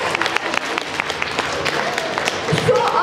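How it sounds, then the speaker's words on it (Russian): An awards-ceremony audience claps steadily, a broad wash of many hands with some sharper nearby claps and faint voices mixed in toward the end. "Хлопаем, хлопаем, «Якутия»."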